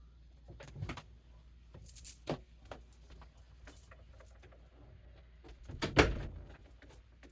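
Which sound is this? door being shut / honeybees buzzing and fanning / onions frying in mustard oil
door being shut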